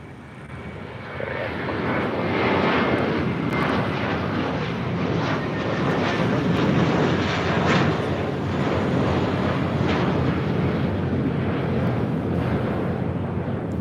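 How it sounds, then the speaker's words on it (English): A JetBlue Airbus A321 takes off from LAX bound for JFK, its jet engines a loud, steady, broad roar that swells in the first seconds and holds throughout, with some wind buffeting on the microphone. "This is JetBlue 1124 taking off to JFK on an A321."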